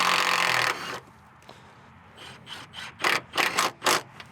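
A Milwaukee M18 FUEL compact impact driver works 12mm nuts on a front strut mount of an Outback. A loud sustained burst comes first, then after a quiet gap a series of short, sharp hammering bursts grows stronger.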